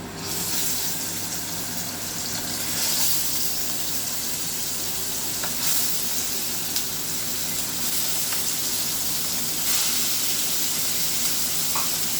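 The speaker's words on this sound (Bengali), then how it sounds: "তেলটা গরম হয়ে গেছে আমি একটা একটা করে চিংড়ি মাছ দিয়ে চিংড়ি মাছটা ভেজে নিই" Tiger prawns fry one by one in hot oil in a kadai, giving a steady, close hiss and crackle that holds evenly throughout with no talk.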